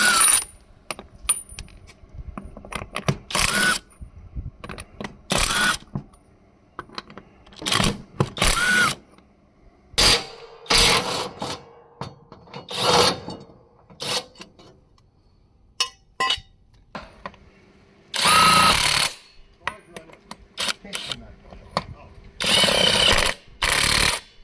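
Takuoo torque impact gun running in short, loud, rattling bursts of varied length, separated by quiet gaps with some clinking and handling noise, close by.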